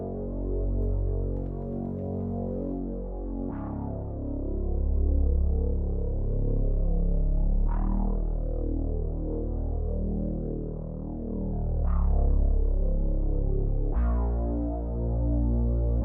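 Deep synth bass from the Bass Eternity preset in Analog Lab, part of an R&B kit, plays sustained low notes with a new attack every few seconds, loud and alone without any voices.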